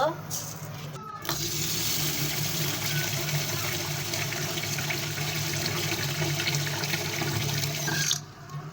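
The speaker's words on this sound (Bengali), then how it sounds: "এখন আমি খ্যাপসা রান্না করার জন্য চাউলগুলো ধুয়ে নিব" Rice being washed in water in a sink or basin while preparing Saudi kabsa, a steady close splashing and running-water wash that continues throughout after a brief pause at the start.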